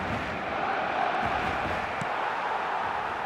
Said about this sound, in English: the crowd have tried to spark some excitement, but to no avail